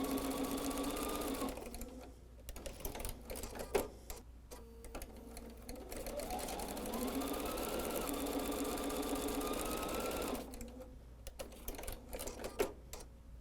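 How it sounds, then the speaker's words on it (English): A sewing machine stitching quilt block triangles, rapid mechanical whirring runs that rise in pitch as it speeds up, broken by short pauses and clicks, close and moderately quiet. "I'm going to take that to the sewing machine and sew it"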